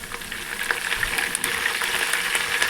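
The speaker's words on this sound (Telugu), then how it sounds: "ఇప్పుడు కట్ చేసి పెట్టుకున్న ఆనియన్స్ని వేసుకోండి ఇందులో కొంచెం కరివేపాకు వేసుకోండి" Onions and curry leaves sizzle steadily in hot oil in a pan, a dense crackling hiss with small pops and bursts that keeps going without a break, close and fairly loud with no talking over it.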